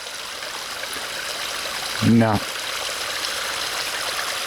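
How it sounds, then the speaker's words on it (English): A stream flowing into a pond makes a constant rushing, trickling wash of water. A short voiced sound briefly rises over it midway. "There's too much water flow"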